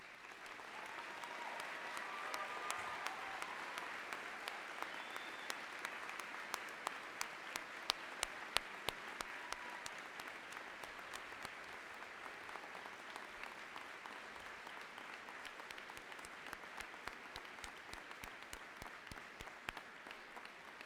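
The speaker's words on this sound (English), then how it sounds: "please stand for a round of applause" A large commencement audience applauds students, faculty and staff at a State University of New York spring ceremony. The sustained, distant patter of many hands holds steady for about twenty seconds, with scattered sharper claps.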